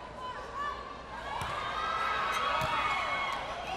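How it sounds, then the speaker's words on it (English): Volleyball fans cheering for the Foton Tornadoes at a 2015 PSL Grand Prix finals match in an arena, a broad crowd roar swelling and holding with shouts and a few sharp thuds, while a commentator talks over it. "yung fans of Foton Tornadoes trying to cheer on their team"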